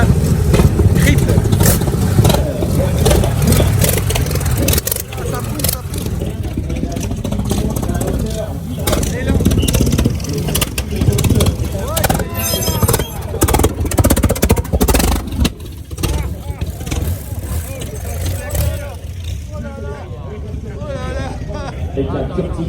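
A vintage car fitted with a Curtiss aircraft engine at the Vintage Revival Montlhéry 2024 event drives past with a loud, rough engine roar that rises and falls, heard under continuous talking.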